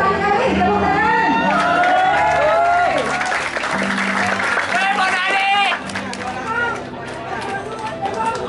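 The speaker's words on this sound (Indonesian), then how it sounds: "Kalau pendukungnya Sani Kevin, tepuk tangan." Crowd of supporters clapping and cheering for the Sanggar Betawi Sani Kevin ondel-ondel dance troupe at a competition, loud dense applause with shouts and lively chatter, a voice talking over it before the noise thins out.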